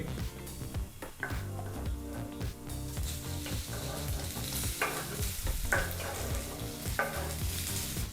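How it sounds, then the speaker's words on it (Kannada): Cut taro root and ground masala paste fry in a pan on a low flame, a steady sizzle broken by repeated scraping and clinking as a spoon stirs against the metal, close and continuous. "ಲೋ ಫ್ಲೇಮ್ನಲ್ಲೇ ಸರಿಸುಮಾರು ಎರಡು ನಿಮಿಷಗಳ ಕಾಲ ಚೆನ್ನಾಗಿ ಮಿಕ್ಸ್ ಮಾಡ್ತಾ ಫ್ರೈ ಮಾಡ್ಕೋಬೇಕಾಗುತ್ತೆ"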